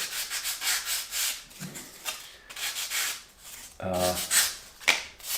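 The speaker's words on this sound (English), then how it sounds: "I can sand it" Hand sanding of a cut wooden piece for a medieval tower model, with repeated close scratchy rubbing strokes in bursts and short pauses between them.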